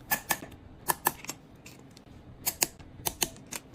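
Small screws driven to torque with a torque screwdriver during an iPhone 13 Pro screen and battery shield reassembly, heard as sharp, close ratcheting clicks in quick pairs and short clusters with brief pauses between.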